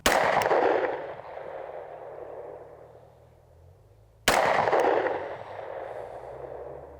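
Two loud, close pistol shots, spaced a few seconds apart, each a sharp crack with a long ringing decay, fired at about 11 or 12 yards while zeroing a Zulisy Otter micro red dot sight, with no talking.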